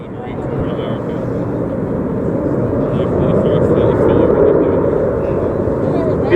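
Red Arrows jets flying in a Delta formation at the RAF Cosford airshow, a steady loud roar of jet engines that builds slightly over several seconds and holds without a break.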